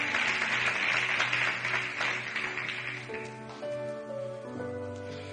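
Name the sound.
applause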